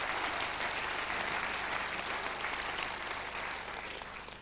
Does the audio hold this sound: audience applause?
yes